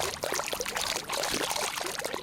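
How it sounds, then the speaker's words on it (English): Loud, steady rush of flowing water, like a stream or pouring torrent, filling the space without pause for a couple of seconds inside the eerie corridors of the video game The Backrooms: Lost Tape. "This water is really loud."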